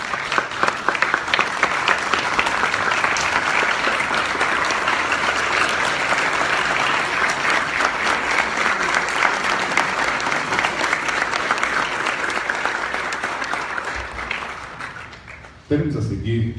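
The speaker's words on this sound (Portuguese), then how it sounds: "Convido a todos para que nós possamos aplaudir de pé esses 4 depoimentos." Standing ovation at a book launch event in Brazil, a large crowd clapping loudly and continuously for about fifteen seconds before tapering off abruptly.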